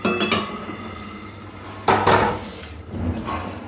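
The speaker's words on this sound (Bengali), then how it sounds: "আর এখানে আরও একটা কড়াই বসিয়ে দিলাম।" A wok (kadai) is set down on a stove with a couple of sharp metallic clanks and scraping knocks, loud and close, with quieter pan rattles between.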